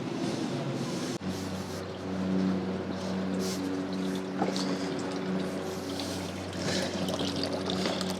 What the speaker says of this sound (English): water is now flowing through this engine block and coming out that hole right there